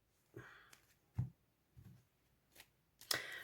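A deck of tarot cards being cut by hand: a handful of soft, separate card rustles and flicks spaced out in a quiet room, the last one sharper and louder.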